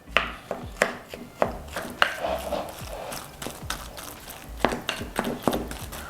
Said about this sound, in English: So I need to crush the majority of this bread and leave some whole, right?